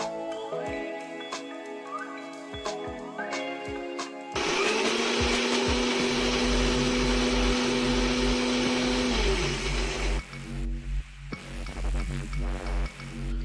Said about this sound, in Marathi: आता हे आपले सगळे जिन्नस आपण एकदा मिक्सरला वाटून घेऊया